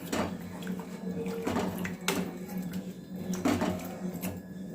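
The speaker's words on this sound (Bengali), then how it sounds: "এটা দিয়ে আমি এটাকে মূলোকে ভালো করে সেদ্ধ করে নেব। একটু নাড়িয়ে দিচ্ছি।" Radish simmering in water with salt and turmeric is stirred in a pot, giving a wet sloshing and scraping texture with a few louder knocks of the utensil against the pot.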